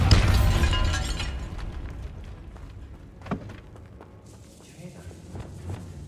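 A Bombarda blasting spell going off in a Harry Potter video game: a loud, bursting blast at the start that fades into lighter debris clatter, scattered pops and faint steps.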